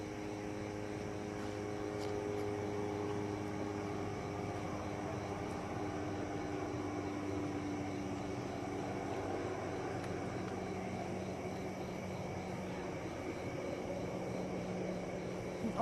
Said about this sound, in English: So still a chopper overhead. Seems to be generally circling.